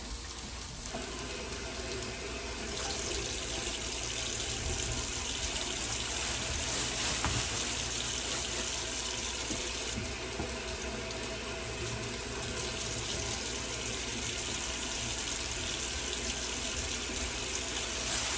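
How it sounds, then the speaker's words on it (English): Broccoli is rinsed under a running kitchen tap, a loud, steady rush of water hissing into the sink with slight shifts as the stream hits the vegetables, with no talking. "you want to make sure you rinse all of your veggies."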